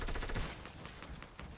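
Rapid bursts of P90 submachine gun fire in Fortnite, a quick rattling string of closely spaced shots, loud and alone with no talk.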